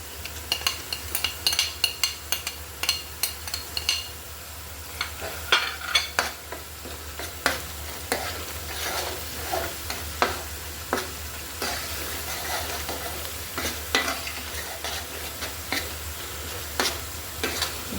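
A spoon scrapes and stirs a paste of ground cashews, raisins, nutmeg and mace frying in a pan for a beef kofta curry, giving irregular close clatters and scrapes over a soft steady sizzle.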